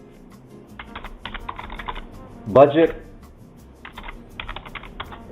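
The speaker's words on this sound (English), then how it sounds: "So enter new member and start typing your elements." Keyboard typing in bursts of quick clicks while entering elements in IBM Planning Analytics Workspace, with a brief spoken word in the middle and more typing after.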